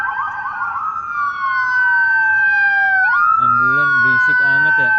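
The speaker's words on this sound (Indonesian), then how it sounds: "Ambulan berisik amat ya." A loud ambulance siren wails on a Los Angeles street, its tone sweeping up and down continuously and close by, with a voice briefly audible over it near the end.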